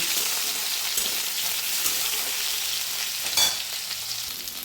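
Eggplant pieces sizzle and fry in a pan of hot oil, a steady crackling hiss with a brief louder burst as they settle, no voices over it.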